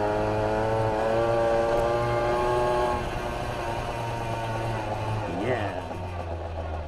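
A kitted 65cc Tomos A3ML moped accelerates up a hill, its small two-stroke engine holding a steady rising buzz with a clear tonal drone, close and fairly constant, easing slightly partway through.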